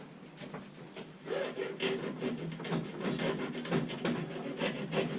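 A rasp files steadily across the wooden body of a guitar, making rough, repeated scraping strokes up close, loud and continuous with no talking.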